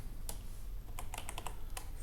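Keystrokes on a computer keyboard while a name is typed into a compositing program: a handful of crisp, close clicks, a single tap followed by quick bursts, over a low background hum.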